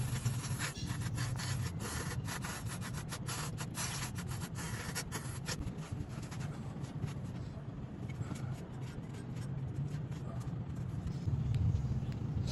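Scrubbing and cleaning of scooter CVT parts from a Honda PCX 160, a steady rough rubbing and scraping close up, continuous and fairly quiet throughout.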